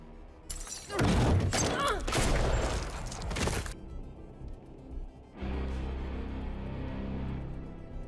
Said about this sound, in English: But the Great Pumpkin's Darwin Award goes to our nurse for advancing while firing wildly at Michael when this happens.